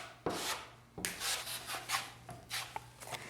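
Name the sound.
spreading joint compound over drywall seams with drywall blade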